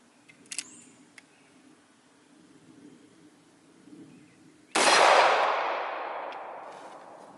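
A single loud gunshot from a FEG GKK pistol firing .45 ACP at a steel tire rim outdoors, a sharp crack with a long decaying echo, after a few quiet handling clicks.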